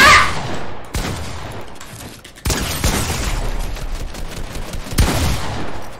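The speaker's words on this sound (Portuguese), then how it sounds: "Olha, tu pina uns tiros ridículos." Fortnite gunfire: bursts of sharp shots and rapid automatic fire crack loudly in several separate volleys, with brief gaps between them.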